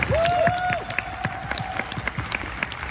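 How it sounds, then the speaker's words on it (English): Lively applause from a convention audience after a panel at Musical Con 2023 at ExCel London, with many hands clapping, a brief whistle near the start, and the clapping tapering into scattered claps. "Can we give our panel a lovely round of applause?"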